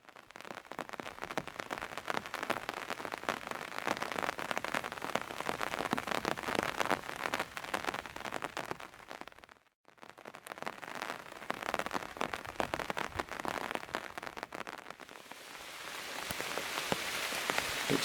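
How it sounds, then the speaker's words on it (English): Steady rain patters densely on a nearby surface along a wet hiking trail near Builth Wells in Wales. The hiss is continuous and fairly quiet, breaks off for a brief moment, then resumes. "It's still raining."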